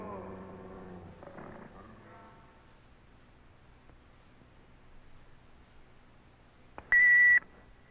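After several seconds of quiet hiss and faint murmuring, a single loud answering machine beep sounds for about half a second near the end.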